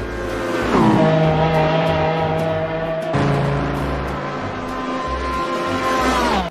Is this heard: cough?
no